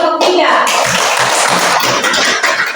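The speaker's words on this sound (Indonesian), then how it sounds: "Tepuk tangan untuk kelompok" Applause for a student group after a classroom presentation, a burst of clapping from a small group of students, loud and close, with a voice mixed in.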